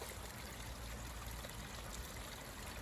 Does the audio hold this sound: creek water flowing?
yes